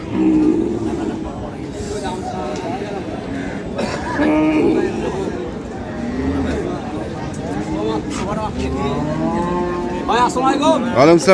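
Cattle moo loudly and repeatedly at the Ambari cattle market, where Sahiwal, Sindhi and local dairy cows with calves are sold, several long, low calls rising and falling, with people talking in the background throughout.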